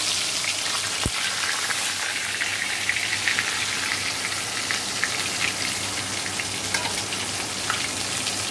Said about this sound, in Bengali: দেখো মাছগুলো এই যে ভাজা হয়ে গেছে